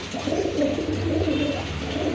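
Giribaz pigeons coo steadily in a low, rolling rhythm, several birds overlapping close by with no pauses.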